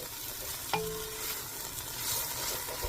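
Garlic and onion sizzle steadily in a pan while being stirred, with a single sharp utensil clink near the start and continuous close frying hiss throughout.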